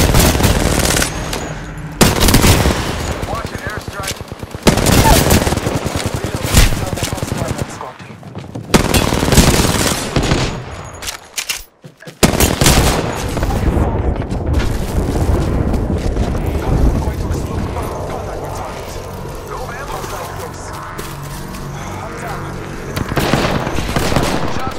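Rapid R99 submachine gun bursts in the video game Apex Legends, duo mode, loud and dense full-auto fire in repeated long strings with brief pauses, with in-game character voice lines mixed in.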